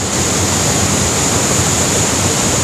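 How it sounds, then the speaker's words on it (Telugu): Athirappilly waterfalls in a Kerala rainforest, a loud, unbroken roar of falling water, broad and steady like rushing noise with no pauses. "అస్సలు మిస్ అవ్వకండి ఈ ప్లేస్ని, అత్తర్పల్లి వాటర్ ఫాల్స్"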